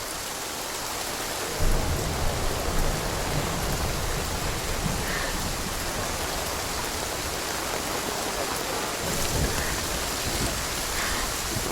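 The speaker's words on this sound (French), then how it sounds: "Il pleut beaucoup trop." Heavy rain pours steadily and loudly, with a low rumble of thunder rolling in the background, and no voices.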